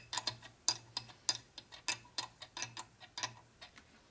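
A ratchet wrench clicking steadily in short, quick bursts while working on a 1965 Harley-Davidson Panhead 74ci FLH motor during a rebuild, close and crisp, with a faint low hum underneath and no talking.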